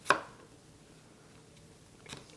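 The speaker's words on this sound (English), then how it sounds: "I'm chopping it very roughly. Don't have to be very small or specific." A knife strikes a cutting board once sharply at the start and again more softly near the end while vegetables are roughly chopped for an Iranian vegetable stew, khoresht o giahee, with quiet room tone between.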